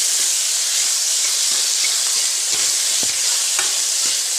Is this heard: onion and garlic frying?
yes